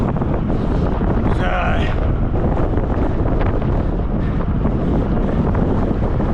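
Strong, constant wind buffeting the microphone while cycling outdoors, a dense roar that stays loud from start to finish with no break.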